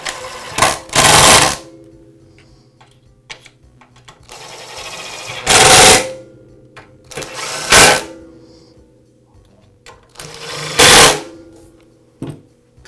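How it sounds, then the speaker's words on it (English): Impact driver tightening screws into a DeWALT chop saw motor housing: four loud, short rattling bursts of hammering, each a second or less, separated by quiet pauses with small handling clicks. "I'll finish them up with an impact driver"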